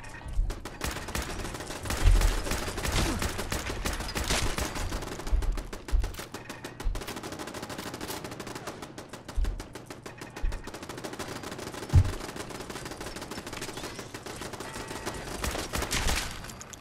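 Rapid bursts of gunfire fill the scene in Fallout 4, steady machine-gun rattles broken by heavier single shots, loud and close with no talking.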